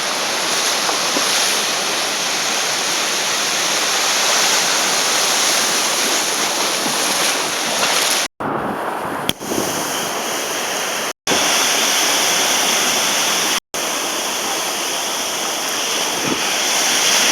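Surf from ocean breakers at a beach makes a loud, continuous roar and wash close to the microphone, cutting out briefly several times.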